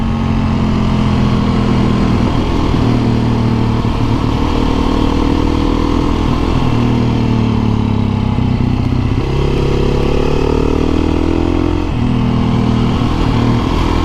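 A motorcycle engine drones loud and close throughout a ride through tight turns in town, its pitch rising and falling with each throttle change and gear shift, with no talk.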